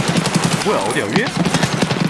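Rapid automatic gunfire in a video game rattles in quick close bursts under steady background game noise, while a voice speaks briefly over it.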